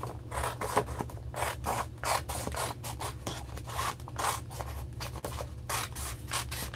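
Steady scratchy cutting and rubbing of vinyl being worked by hand with a blade or scissors, close and quiet, repeating in short strokes throughout with no voices.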